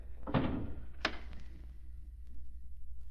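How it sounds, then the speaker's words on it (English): A stuck door being opened in a radio drama sound effect, with two solid thunks about a second apart, then faint rattling, all over a low steady background hum. "Door stuck for a second."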